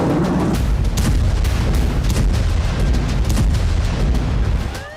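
Repeated booming blasts and rumbling from a bomb attack in Khan Younis, southern Gaza, spread across a dense, sustained roar with sharp impacts throughout, loud and continuous with no voices heard.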